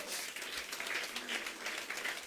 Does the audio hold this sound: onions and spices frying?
no